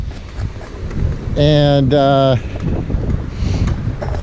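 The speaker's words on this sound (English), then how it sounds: "it's a little bit windy here" Steady wind buffets the microphone at Martin's Beach in Pacifica, California, a low rumbling roar broken by a brief droning tone, with a person speaking at times.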